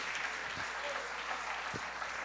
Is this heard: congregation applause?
yes